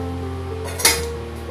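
A lid settles onto a cooking pan of masala mixed-vegetable sabji with one sharp metallic clink near the middle of the clip, over a steady background hum.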